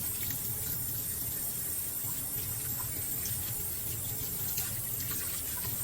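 An orchid pot is washed with water, giving a steady, close splashing rush that runs unbroken from start to finish without any speech.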